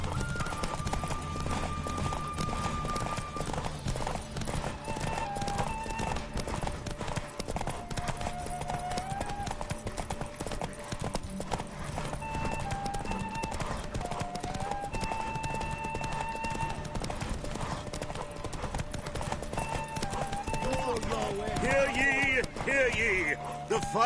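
In The Witcher 3, Roach the horse gallops in a derby race, with rapid rhythmic hoofbeats running continuously under game music and voices, and a whinny near the end.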